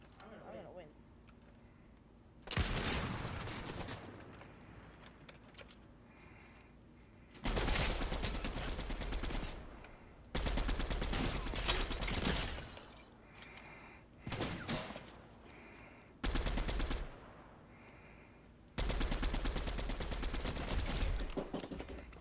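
Bursts of video game gunfire in Fortnite Creative come in several loud blocks separated by quiet gaps, each volley a few seconds long of rapid shots.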